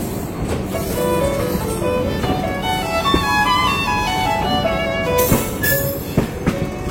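The 13151 Jammu Tawi Express moving along the track, a continuous loud rumble with rhythmic wheel clatter, squealing metallic tones and occasional sharp knocks, heard from on board.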